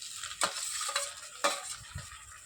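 Onions and tomatoes sautéing in a pan for crab gravy: a low, constant sizzle broken by a few sharp clanks of a spoon stirring against the pan, close by.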